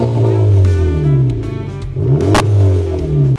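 A Honda Civic FK8 Type R's stock VTEC engine revs up loudly and nearby in two strong pulls, pitch climbing and dropping between them, heard on its own.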